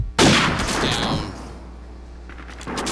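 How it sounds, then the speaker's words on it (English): A single loud sniper rifle shot in Call of Duty 4 cracks close by and rolls off in a long echoing tail, with a fainter noise following near the end. "As you take that shot, you reload, and you move to the next tree."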